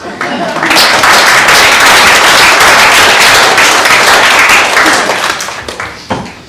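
Wedding guests applaud the bridesmaids at a reception, a loud, dense burst of clapping from a crowded room that holds steady for several seconds before tapering off into scattered claps.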